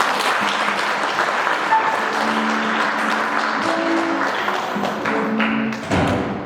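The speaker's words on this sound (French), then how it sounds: "On peut les applaudir." Lively congregation applause at a church baptism and communion, loud and sustained with some louder claps and thumps, and faint musical tones underneath.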